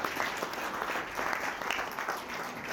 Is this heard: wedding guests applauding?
yes